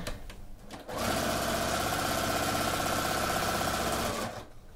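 Sewing machine stitching binding onto a minky row-by-row baby blanket quilt, a sustained rapid mechanical whir that kicks in after a brief rustle, holds steady for about three seconds, then stops.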